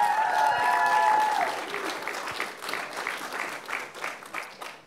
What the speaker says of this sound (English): So a round of applause for my guys here.